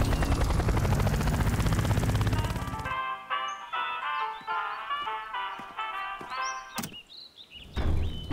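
Cartoon helicopter rescue bot flying toward a forest fire, a loud dense rotor-and-engine roar for about three seconds, then lighter clunks, whooshes and scattered effects with music-like tones.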